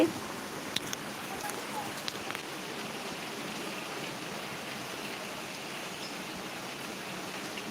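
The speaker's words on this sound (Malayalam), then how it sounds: "സൂപ്പർ മഴ" Steady rain in Kerala, a soft, even hiss of drops falling on surfaces, distant and unbroken throughout with no voices.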